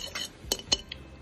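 Ingredients being mixed in a bowl with soy sauce, sharp metallic clinks of a utensil against the dish, several distinct taps at an uneven pace, close and fairly quiet.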